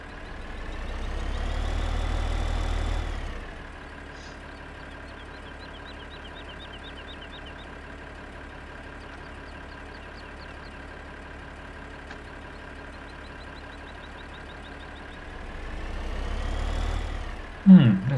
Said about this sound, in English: Oh, tractor is not working correctly.